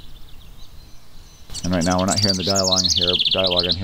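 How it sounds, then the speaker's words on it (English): An outdoor ambience of birdsong rises suddenly after a quiet start: bright, repeated chirps and tweets in quick bursts, loud and close, while someone speaks over them. "It's outside sound of birds chirping and things like that."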